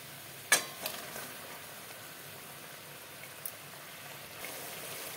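Pointed gourd pieces drop into a pan with mustard-poppy paste and sugar, giving a sudden sizzle that settles into a faint, steady frying hiss with a few soft clicks.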